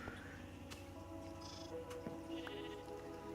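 Minecraft sheep bleat in a few short, faint calls over low ambient game sound, with no one talking.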